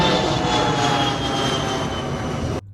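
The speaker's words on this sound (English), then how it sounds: "you hear the airplanes going off" An airplane roars loud and close overhead near a small airport where RVs are parked, a steady broadband engine drone holding for over two seconds before cutting off abruptly.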